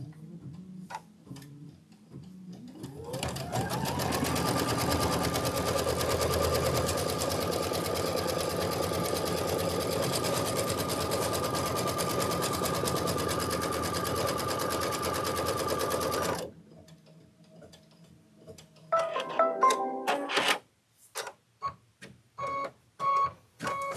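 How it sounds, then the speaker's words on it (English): An embroidery sewing machine stitches a tack-down with cranberry thread, starting up with a rising whir, then running at a fast, steady mechanical hum with a ticking rhythm for about twelve seconds before stopping, followed by a few scattered clicks and handling sounds. "We are going to do the tack down for our background. I have cranberry thread in there, which is perfect. And I'm just going to go ahead and hit start."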